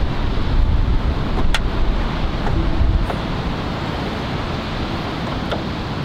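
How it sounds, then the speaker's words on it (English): Strong wind buffets a coastal campsite on the Oregon coast, a steady loud roar with gusty rumble and surf-like wash throughout, no voices. "we would not want to camp in this kind of wind"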